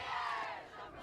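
A group of high school cheerleaders shouts in unison at a football game, a loud, sustained collective yell that rises and then trails off slightly within a second.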